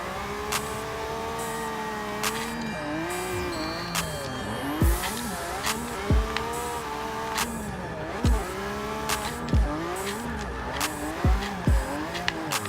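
Lamborghini Veneno in Forza 6, drifting on a track: a sustained engine whine rises and falls with revs, while repeated sharp tire squeals and skids cut in every second or two, loud and close.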